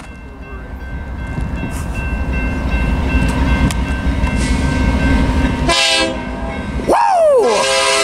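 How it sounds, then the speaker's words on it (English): A westbound BNSF freight train led by a Dash 9 locomotive rumbles past close by, with wheels clattering steadily and two loud horn blasts near the end. "Here comes a westbound BNSF with a dash 9."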